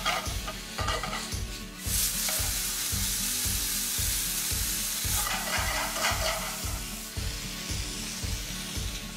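Minced meat with oyster sauce frying in a pan, a constant sizzle broken by a steady rhythm of spatula strokes scraping and stirring, close and clear with no talking.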